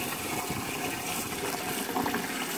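A quarantine fish tank being filled from a water source in a garage, a steady broadband rush of running water pouring in continuously at close range, with no talking.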